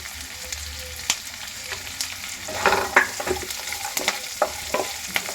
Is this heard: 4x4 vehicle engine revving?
no